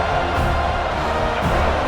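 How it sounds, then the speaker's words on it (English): A stadium crowd in a football video game cheers and roars loudly and steadily, with swells of whooping throughout. "It's early, but this crowd is fired up. Listen to this noise here."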